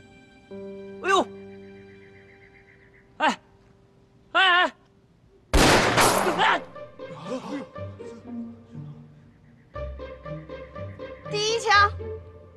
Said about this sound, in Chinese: 大哥，站好了，我要开枪了。